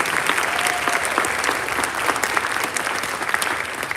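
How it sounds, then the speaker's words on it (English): Audience applause for beginning band students at the end of a band camp concert, a dense, steady round of clapping from a large crowd that continues at an even loudness for the whole stretch. "Can we get one more round of applause for these students and their work with me?"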